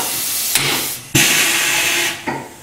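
Avdel riveting tool setting a 3/8 inch Monobolt fastener into scrap material: a loud pneumatic hiss with a sharp snap near the middle, followed by sustained air release and a brief tail burst, with no voices.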